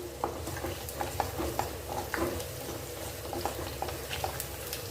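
Garlic with shallots and big onions sautéing in a pan, a soft low sizzle with repeated light spoon taps and stirring clicks, quiet and close.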